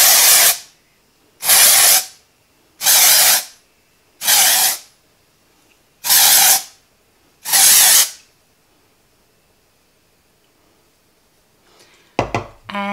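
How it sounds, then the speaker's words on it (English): Dry shampoo is sprayed onto a blonde synthetic wig in six even, hissing bursts about a second long, close and loud, separated by short pauses, followed by quiet and a few soft handling noises at the end. "spray a bit more of the Brilliant Blonde"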